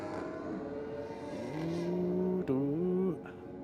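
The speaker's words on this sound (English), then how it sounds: "Love the sound of a quick shifter." A drag racing motorcycle with a quick shifter accelerating down the strip at Sydney Dragway, a fairly distant engine note rising in steady pitch climbs with a sharp, clipped break at each quick upshift.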